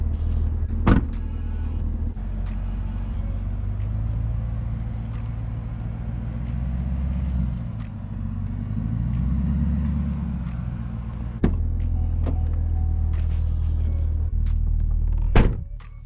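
A Chevrolet Camaro ZL1 V8 rumbles at a deep, steady idle, broken by a few sharp thunks, likely from doors or controls.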